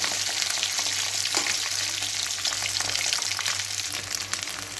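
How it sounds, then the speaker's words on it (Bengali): Eggs frying in hot oil for an egg curry, giving a loud, continuous crackling sizzle up close with faint stirring taps, and no voices. "ডিমটা হালকা ভাজা হোক, আমি যতক্ষণ মশলাগুলো করে ফেলি।"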